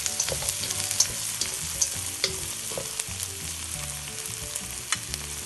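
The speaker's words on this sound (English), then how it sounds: "And then next, you have to stir it all up" Red peppers being stirred into Hakka noodles frying in a pan, a steady close sizzle with repeated scraping clicks of the utensil through the mix and no talking.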